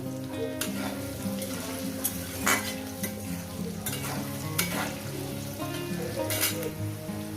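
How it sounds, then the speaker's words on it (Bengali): Potatoes fry in a pan for a Bengali fish posto dish, with a steady close sizzle broken by repeated scrapes and clinks as a utensil stirs them. "প্রায় এটাকে আমি চার পাঁচ মিনিট আলুটাকে আমি ভেজে নেব"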